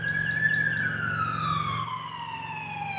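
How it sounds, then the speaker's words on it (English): A wailing siren sweeps downward in pitch, steady and fairly distant, carried over a low background hum, at a disc golf tournament. "Adam's got a siren to contend with there"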